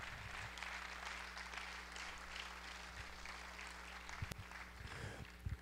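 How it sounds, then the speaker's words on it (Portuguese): A church congregation applauds during a worship service, with steady applause spread across the room at low volume over a constant electrical hum, and a few louder knocks near the end. "Agora você pode dar uma salva de palmas para o Senhor."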